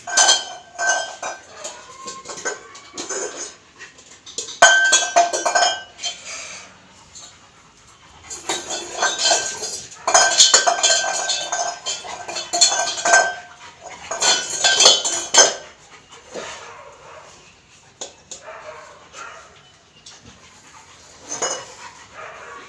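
A metal sombu pot clanks and scrapes in repeated irregular bursts as a pet dog plays with it, with the dog panting between the rattles.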